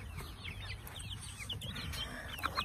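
Young farm ducks in a pen make many quick, high cheeps and peeps that overlap close by, with no talking.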